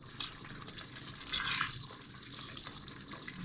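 Water splashes into spices being fried in a pan for a beef paya curry, a short gush of pouring over a steady low sizzle, close and moderately loud with no talking.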